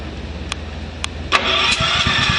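A choked lawn mower engine is pulled over with a few sharp cranking clicks, then catches and fires into a loud, steady running rattle for the last second.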